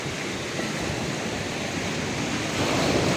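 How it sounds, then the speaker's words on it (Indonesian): Steady ocean waves and surf roar around a rocking boat at a diving training site, a dense, continuous wash that swells slightly louder near the end, with no voices. "Ini ya kondisi ombaknya. Perahunya oleng semua ini."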